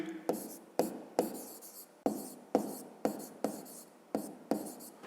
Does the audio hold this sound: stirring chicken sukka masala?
no